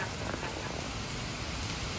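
A hailstorm in St. Wendel, Minnesota, in August 2021 pours steady, dense hail onto surfaces and a truck, a continuous loud wash with no breaks.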